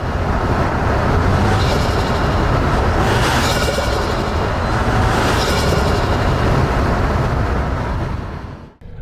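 A 2024 Toyota Tacoma Trailhunter with its turbo engine runs in a loud, continuous drone, heard from close up inside the truck with broad road and wind roar under it, and no talk before it fades at the end.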